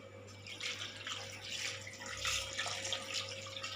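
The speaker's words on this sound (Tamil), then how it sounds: "இருங்க, தண்ணி ஊற்ற போகிறேன்." Water poured and running into a kitchen pot over chicken legs sprinkled with turmeric and salt, a steady close splashing stream with gentle surges.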